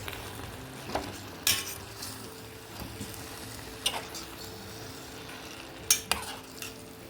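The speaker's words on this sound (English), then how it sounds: "After frying the onions and pepper mix for a few minutes, I'm adding the mushroom harvest." Soft sizzling of wild mushrooms frying with onions and pepper in a pan, with occasional clinks and scrapes of a utensil stirring, quiet and close.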